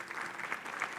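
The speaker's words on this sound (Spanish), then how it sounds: "¿Por qué no le damos un aplauso al Señor por eso?" A church congregation breaks into applause, a brief, fairly faint wash of many hands clapping together, steady and without pause.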